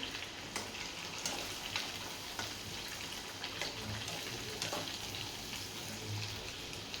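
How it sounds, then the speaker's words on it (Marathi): Sabudana vada, made from sago pearls and peanuts, frying in hot oil: a steady, dense sizzle with scattered crackles and pops, close and constant throughout with no voices. "बघा शाबू कसा तळला जातोय"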